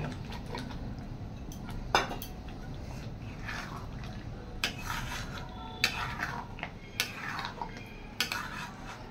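Eggs go into a pan of cooked masala for egg rezala, with soft sizzling under a series of sharp clinks and scrapes of a spoon against the pot, fairly quiet overall.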